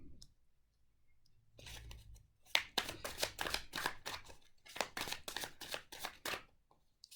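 Tarot cards shuffled and dealt by hand, a soft rustle at first, then a run of quick crisp riffling snaps and slaps, close and fairly quiet, with no talking.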